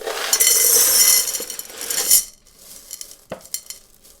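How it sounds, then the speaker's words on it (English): Rocks poured and spread into a pot for planting flower bulbs give a close, bright clattering rush of stone on stone for about two seconds, then a few scattered clinks and taps. "Let's get our rocks in our pot."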